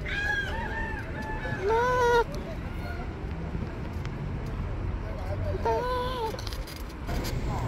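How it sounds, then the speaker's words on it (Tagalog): Chickens clucking and squawking in short bursts at an outdoor poultry market in Dammam, over steady outdoor background noise, with a couple of louder calls standing out. "Ayan oh, manok."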